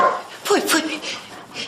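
A police dog gives a couple of short, sharp barks and yips indoors in a house, close by, mixed with a person speaking.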